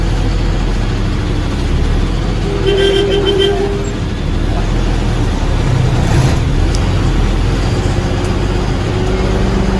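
Busy KSRTC bus station in Malappuram, with a loud, steady rumble of idling and passing bus engines and road traffic filling the space, faint voices and occasional horn-like tones mixed in.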